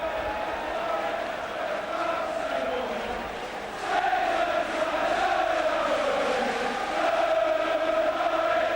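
A large football crowd at the 1987 Third Division play-off final replay between Swindon Town and Gillingham, a loud sustained roar of singing and chanting that swells and stays strong throughout.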